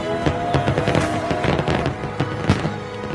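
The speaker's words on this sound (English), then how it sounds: "My 4th of July draws to a close with a spectacular fireworks display." A Fourth of July fireworks display in the San Juan Islands: a rapid run of booms and crackling bursts over a steady rumbling wash, loud and fairly close.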